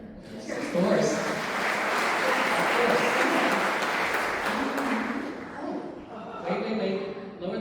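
An audience at a concert event with Marianne Cornetti and friends gives a long round of applause, a full wash of clapping that swells, holds, then fades as talk resumes at the end.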